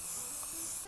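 Aerosol hairspray sprays onto static grass fibres on a model railway layout, a steady close hiss running almost a second before cutting off abruptly, with no talking.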